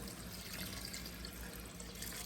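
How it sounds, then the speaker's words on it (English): Chicken broth pours into a soup pot for a white bean and escarole soup, a steady, soft liquid rush running evenly throughout without pauses or speech. "And we're gonna add our quart of homemade bone broth."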